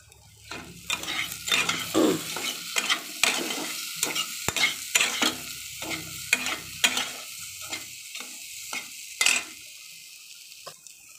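Potatoes frying in oil in a kadai, stirred with a spatula, give a steady sizzle broken by repeated scraping strokes at a close, moderate level, with no voices.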